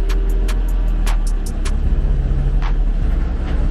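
An old German Mercedes fire engine from a volunteer fire brigade pulls away, its deep engine rumble steady and close, with a few sharp clicks and knocks early on.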